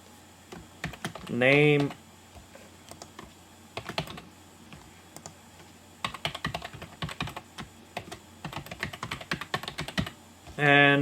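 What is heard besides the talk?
typing on a computer keyboard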